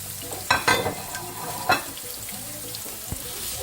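Salmon fillet frying in a pan gives a steady, close sizzle, with a few louder pops and crackles in the first two seconds.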